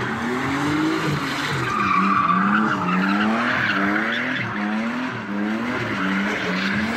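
Tires of a turbocharged BMW E36 squeal in a long, loud, wavering skid at a gymkhana event, the screech rising and falling continuously for several seconds with engine noise underneath.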